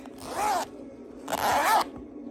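A zipper pocket on the back of a vinyl wallet zipped in two quick, close strokes, crisp and rasping, with a brief pause between them in a quiet room.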